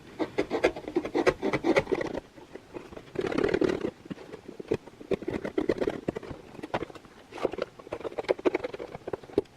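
A plastic container has its bottom cut out in a bird-feeder craft, giving close, scratchy cutting and rubbing noises in repeated bursts with brief pauses between them.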